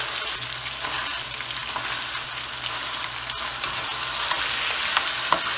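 Chicken leg pieces hit hot oil in a karahi with green chillies, a loud steady sizzle with stirring scrapes and a few sharp pops near the end, no voices.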